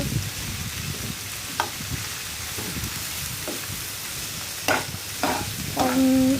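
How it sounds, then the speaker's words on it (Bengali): Bitter gourd (karela) frying in a pan and being stirred, a constant close sizzle with scraping strokes of the spatula and a few louder knocks near the end, no voices. "আমি এখন এটার ভাজিটা লাড়াচাড়া দিয়ে দিব"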